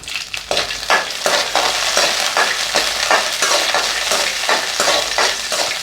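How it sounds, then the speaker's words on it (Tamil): Green chillies, ginger and garlic cloves frying in hot oil in a kadai, a loud close sizzle with repeated rhythmic scraping strokes as they are stirred, no talk. "கடாய் சூடானதும் 2 பச்சை மிளகாய், ஒரு சின்ன துண்டு இஞ்சி, 5 பூண்டு பல் எல்லாத்தையும் சேர்த்துக்கிறேன்."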